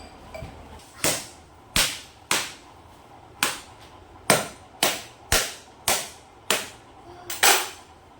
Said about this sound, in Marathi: नारळ फोडू आपण आता